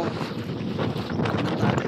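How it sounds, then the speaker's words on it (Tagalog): Strong wind on a river in Mindoro buffets the microphone in a steady, rushing roar, with gusts swelling toward the end and no voices. "malakas ang hangin. Pansin nyo."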